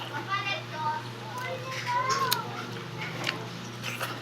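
A cat meows a few times, fairly faint, with people talking and household noise around it.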